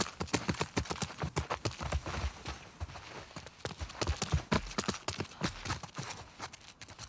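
Horse hooves clip-clop in a steady walking rhythm in The Last of Us Part 2, close and continuous across the whole stretch with no clear talk.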